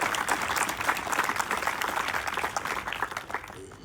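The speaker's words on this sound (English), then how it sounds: "Let's give a big round of applause for the Post newspaper" A town hall audience applauds the Post newspaper, a full, continuous wash of clapping from a crowd, loud and sustained across the whole stretch, tapering slightly at the end.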